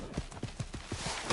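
A horse's hooves clip-clop in a steady trotting rhythm in Assassin's Creed Origins, each beat distinct and close, with game ambience and a faint voice in the background.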